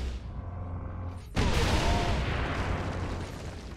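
A sudden heavy boom from an explosion in Warhammer 40,000: Space Marine cuts in, followed by a sustained rumbling roar that slowly fades; no voices.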